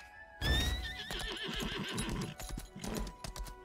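Horse in the video game Lost Ark gives a loud, clear whinny, followed by a quick run of clip-clopping hoofbeats, with no talk over it.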